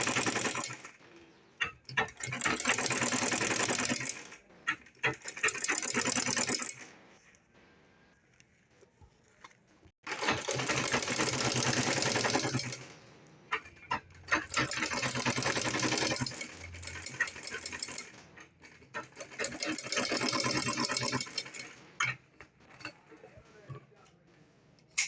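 Sewing machine top stitching a DIY fabric file folder, running in several loud bursts of a few seconds each separated by quiet pauses, with rapid steady stitching rattle throughout each run.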